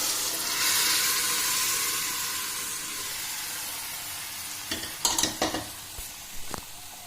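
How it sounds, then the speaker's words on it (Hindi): Tomato and spices for a chickpea curry frying in a pan: a steady hiss that fades out, then several sharp clinks and scrapes of stirring near the end. "देखो अच्छे से टमाटर को भून दिया।"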